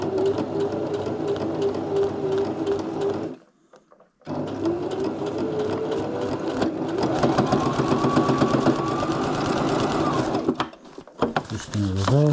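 Sewing machine running a single straight stitch through tent fabric, a close steady mechanical whir with one brief pause near the middle and a stop near the end, a voice talking over it.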